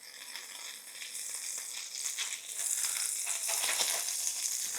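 Butter sizzles on a hot griddle ahead of smashburgers, a bright, crackling hiss that swells and grows louder toward the end, with no voices.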